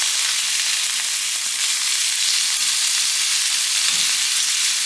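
Chicken pieces sear in a hot pan with a loud, steady sizzle and frying hiss that runs unbroken throughout, with a couple of soft low knocks and no talking.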